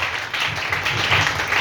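A church congregation applauding, a close, dense wash of many hands clapping steadily and loudly throughout the short stretch.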